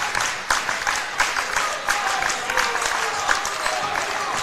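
A basketball crowd at a Friday night high school game between Badin and Alter cheers and claps, a continuous roar with scattered claps and shouts, under a faint voice.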